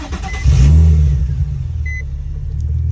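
Nissan 350Z with a manual clutch starting up: a short cranking burst followed by a deep, steady rumbling idle close by, with a faint electronic beep partway through.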